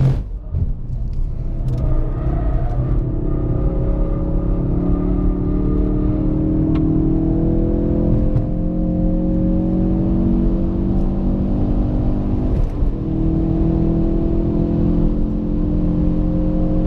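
Ford Focus RS driven fast around a race track downhill over curbs, engine droning loud and steady with rising and falling revs through gear changes, close up from inside, no talk.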